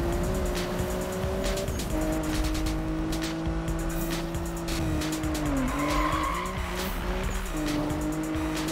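Car skidding sideways through a corner in the Need for Speed (2015) racing game, a steady loud tire squeal over a droning engine that dips and recovers mid-slide, continuous for several seconds with no talk.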